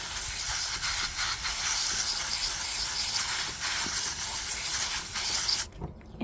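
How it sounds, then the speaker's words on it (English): Fine water mist sprayed over freshly sown basil seeds in soil, a steady continuous hiss lasting several seconds, close and fairly loud, then cutting off abruptly near the end. "mist it lightly."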